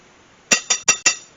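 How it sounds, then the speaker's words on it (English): A spoon strikes the inside of a glass bowl while stirring an orange sherbet mixture with milk and pineapple. Four quick, bright clinks come in a steady rhythm, close and clear, with no talk. "I can feel it on the bottom of the bowl here, so I'm just stirring it in"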